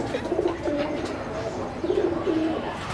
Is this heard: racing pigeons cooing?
yes